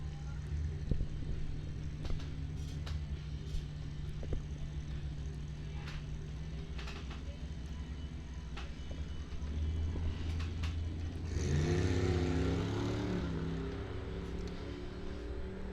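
At a drag strip, a Monte Carlo SS and a Pontiac Solstice launch together in a bracket race, a loud rumbling engine roar swelling sharply partway through under a constant crowd and track din.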